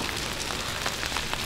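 Rainy-season rain in Oaxaca City pours down steadily, a dense close hiss of drops striking surfaces with scattered louder spatters and no speech.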